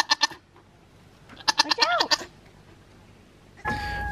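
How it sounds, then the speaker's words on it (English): Several Nigerian Dwarf goats bleat in short, wavering bursts, a quick pair first and then a cluster of louder calls, before a different noisy sound cuts in. "The goats are blatting so much more today"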